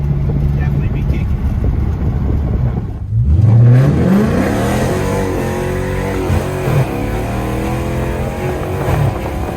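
A 2016 Dodge Charger R/T V8 fitted with JBA mid pipes rumbles loudly and close, with a swelling rev around the middle and a deep, steady burble as it pulls away, mixed with a person speaking.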